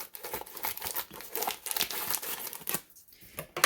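A plastic family pack of hot Italian sausage being cut and pulled open, with close, crinkly tearing and rustling bursts for a few seconds, then a brief quiet gap before one last rustle.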